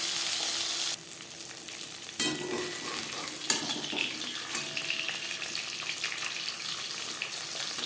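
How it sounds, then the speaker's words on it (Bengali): Small pabda fish fry in refined oil, giving a steady close sizzle with occasional sharp pops and spatters, and a faint clink of a utensil against the pan. "পাবদা মাছ ছোটে সাবধানে ভাজতে হবে"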